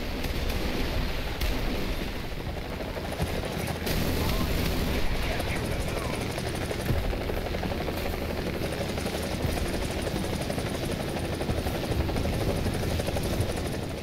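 Mi-24 Hind attack helicopter flying in a combat video game, a steady loud rotor and engine drone filling the whole stretch, with occasional faint thumps like distant weapon fire beneath it.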